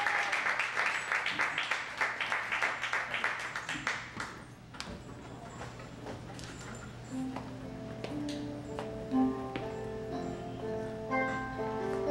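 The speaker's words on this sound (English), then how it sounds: "let's give a big round of applause" An audience at a Renaissance jazz event applauds with dense, close clapping for about four seconds, then it thins out to scattered claps while tonal notes sound.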